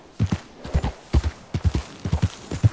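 Horse hooves clip-clopping at a walk in the game Red Dead Redemption 2, a steady rhythmic run of close, distinct hoof strikes in pairs, with no talk over them.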